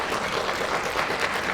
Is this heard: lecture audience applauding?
yes